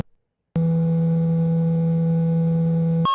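A steady electronic tone said to cool down a phone, starting abruptly after a short silence and holding one unwavering low-pitched hum, then jumping to a higher pitch right at the end.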